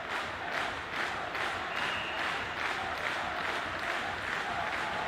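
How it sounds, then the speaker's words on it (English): A noisy crowd of ice hockey fans in an arena during a Nottingham Panthers versus Coventry Blaze match claps and cheers in a steady, rhythmic roar that continues without a break. "Noisy fans getting the crowd going"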